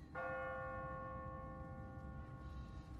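A single church bell in The Walking Dead video game strikes once, its tone ringing out and decaying slowly over a steady low background rumble.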